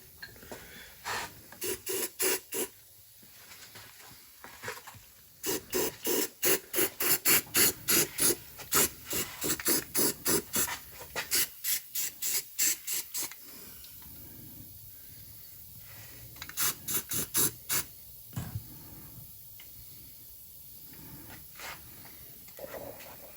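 Rhythmic bursts of hissing spray from a nearly empty spray paint can, short repeated pulses in groups with pauses between, close by and fairly quiet.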